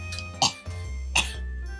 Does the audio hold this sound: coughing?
yes